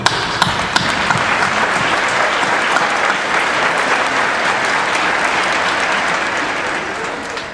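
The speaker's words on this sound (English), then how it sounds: "Give yourselves a round of applause." Graduates at the 2009 Lake Forest MBA commencement applaud, a dense, loud, sustained wash of clapping that holds steady from start to finish with no voices over it.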